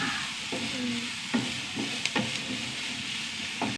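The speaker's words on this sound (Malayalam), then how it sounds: "ഉള്ളി നന്നായി വഴണ്ട് വന്നു" Onions sauté in a pan until browned, with a steady close sizzle and clear scrapes and taps from a stirring spoon at intervals.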